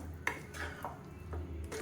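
A spoon stirs a Tamil side dish curry in a metal pan, a few close scraping clinks and knocks over a low sizzle, with no talk.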